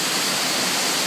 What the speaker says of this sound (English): You can see how the water has just carved out that tunnel as it drops down about 20 feet down into some pools.